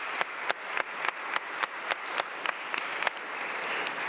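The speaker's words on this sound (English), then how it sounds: "let's give him another round of applause if we could." Round of applause at a Cleveland city council meeting, many hands clapping in a hall with a few sharper individual claps standing out at a brisk, fairly steady rhythm, moderately distant.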